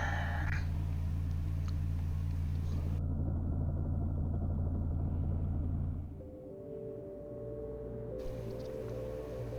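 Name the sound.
airlock cycling in the video game SIGNALIS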